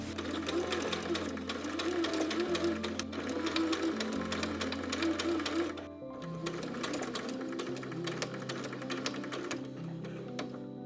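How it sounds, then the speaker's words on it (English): A sewing machine runs steadily, stitching bias binding along a crease with a fast, even mechanical chatter, pausing briefly about midway before carrying on at a similar pace, moderately quiet and with no talk. "I'm going to do as before and just sew in this crease"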